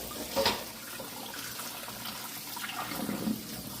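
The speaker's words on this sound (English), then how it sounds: "I'm going to switch the water to hot, and I'm going to rinse off my noodles with hot water." Hot tap water runs steadily into a kitchen sink as noodles are rinsed, a continuous close splashing rush with a few louder gurgles.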